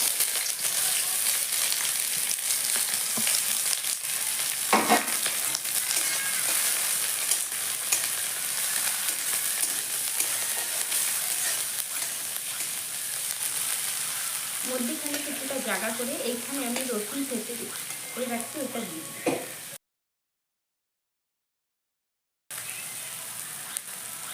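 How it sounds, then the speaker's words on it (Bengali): Onion frying in hot oil with garlic gives a soft, continuous crackling sizzle heard close but fairly quiet, with a brief sharper pop partway through and a short silent gap near the end. "রাখা পেঁয়াজটা দিয়ে দিচ্ছি তেলটা গরম হয়ে গেছে"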